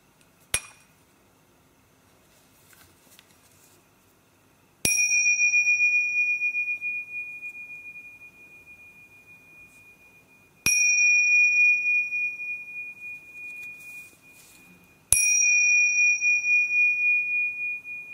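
Large Tibetan karatals, metal hand cymbals, struck together four times at wide intervals, each a sharp bright clash followed by a long, pure, slowly wavering ring that fades before the next strike.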